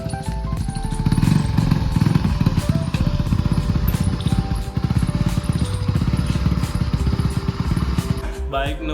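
A motorcycle engine runs steadily and close by for several seconds, with a pulsing putter that stays loud throughout and drops away sharply at the very end.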